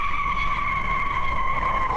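Tires of a Formula E car squeal in a sustained, loud, steady screech as it spins in a racing video game, with a continuous engine-like drone underneath.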